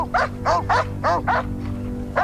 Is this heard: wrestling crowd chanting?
no